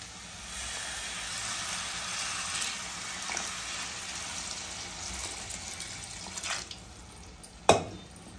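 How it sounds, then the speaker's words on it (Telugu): Water poured into a pot of curry after chili powder has been stirred in, for cooking drumsticks; a steady, quiet watery rush continues through, ending with a couple of sharp clinks near the end. "ఇప్పుడు నీళ్ళు పోసుకోవాలన్నమాట"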